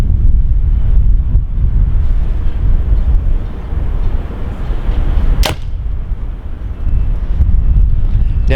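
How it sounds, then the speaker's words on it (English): Wind blowing outdoors at an archery range, a steady loud rumbling buffet across the microphone throughout, with one sharp brief snap partway through. "There's a fair bit of wind here."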